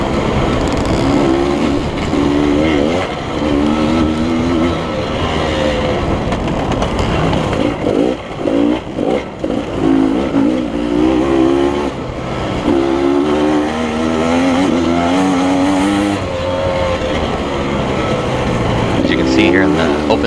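Several dirt bikes race at a dusty open-field event in LaCygne, Kansas: a loud revving engine close by, with other motorcycle engines whining and rising behind it throughout.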